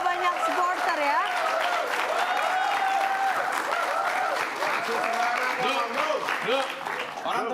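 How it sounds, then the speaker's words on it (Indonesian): Studio audience applauding and cheering at an Indonesian TV show, a steady dense clatter of clapping with voices talking and calling out over it throughout. "Orang tepuk tangannya buat lo semua."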